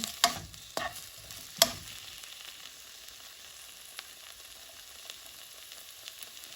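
Eggplant stir fry with pepper and tomato stirred in a pan, a few sharp clatters of the spatula early on, then a steady low sizzle with light occasional taps, close by.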